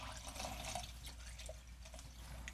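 Homemade Caffenol developer liquid trickles and drips as it is poured, a soft continuous splashing with scattered droplet ticks, close and fairly quiet.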